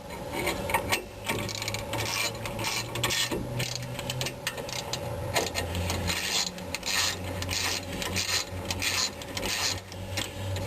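A ratchet working continuously on bolts during a rear brake and rotor job on a Chevy S, producing a close, steady rasping click with a faint mechanical hum underneath, with no talking.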